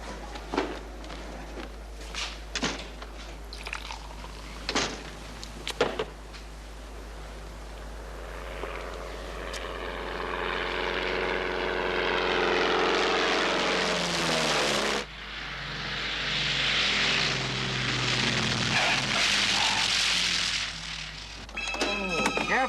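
A propeller airplane's engine runs up and drones steadily at close range, its pitch shifting as the flaps are worked, with brief speech and clatter at the start.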